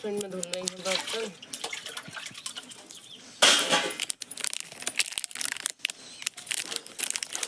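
Dishes being rinsed under water, splashing and clattering of metal utensils with a sudden louder gush of water midway, close by, while someone talks over parts of it.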